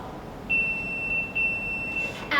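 A workout interval timer gives a steady electronic beep that holds for about a second and a half, then breaks and sounds again, clear and unaccompanied in a quiet room.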